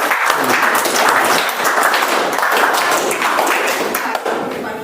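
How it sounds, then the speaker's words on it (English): An audience at a Toastmasters meeting claps together in a loose, out-of-sync burst that runs several seconds as a continuous wash of hand claps, fairly close and loud. "I'm going to ask you to clap."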